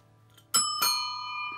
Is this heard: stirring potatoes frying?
no